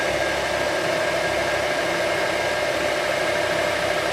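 A Rikon 50-161VS variable-speed 1x30 belt sander runs with a steady, continuous mechanical whir and a broadband hiss, running evenly at a constant level with no pauses and no voices.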